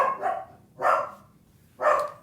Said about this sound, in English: oh, that's my little puppy.